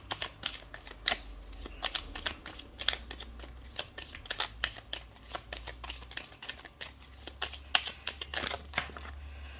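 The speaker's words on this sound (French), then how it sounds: "On va prendre le nouvel Eteia pour faire un tirage en 13 cartes" Etteilla tarot cards shuffled by hand for a thirteen-card spread, a steady run of crisp riffling slaps and papery flutters, close and fairly quiet, with no talking.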